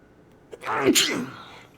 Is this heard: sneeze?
yes